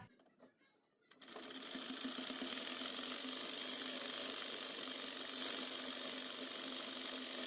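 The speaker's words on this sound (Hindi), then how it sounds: "1/2 इंच पे फोल्ड करेंगे और इसे इस तरह से रखते हुए हम इसकी पीको कर लेंगे।" Sewing machine stitching a picot hem along the folded edge of frock fabric, starting after a quiet second and then whirring rapidly and continuously at close range, steady and mechanical until the end.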